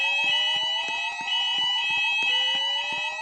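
A fire alarm sounding inside Master Mall: loud layered electronic tones sweeping steadily upward, cut by rapid rhythmic pulsing beeps, continuous and close with no voice audible.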